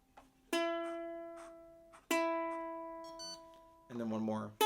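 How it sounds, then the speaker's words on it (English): An automatic ukulele tuner gives clear electronic confirmation beeps while the string settles, two sharp tones a second or so apart, then a final ringing note, quiet and close with no talking. "it tells you when you're done with a flash and a beep"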